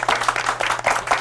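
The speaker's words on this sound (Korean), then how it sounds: "오늘 수고하신 여기 세 분의 MC분들 박수 부탁드립니다" An audience claps for three MCs at a CEO talk event, a steady, moderately loud patter of many hands spread evenly across the moment.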